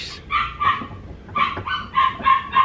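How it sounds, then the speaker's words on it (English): A dog barks outdoors in the Philippines, giving a string of about seven short, mid-pitched barks in uneven pairs and clusters, moderately close, with no talk over them. "She's barking on her ball out there."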